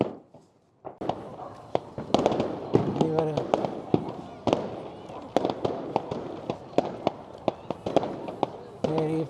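Fireworks burst repeatedly at a New Year's Eve celebration in sharp, loud cracks and pops, scattered irregularly, with people talking and shouting underneath.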